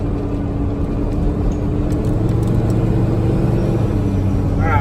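A Ford truck fitted with a Cummins diesel engine climbs a hill in third gear, giving a steady, loud, close engine rumble that holds an even drone throughout.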